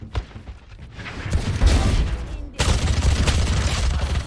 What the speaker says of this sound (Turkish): Adama mermi atıyorum kendim geri gidiyorum mermi attığım zaman.